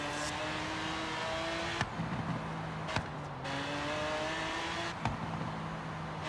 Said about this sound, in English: Listen to that exhaust. How amazing that exhaust actually is.